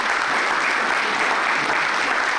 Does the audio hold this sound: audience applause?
yes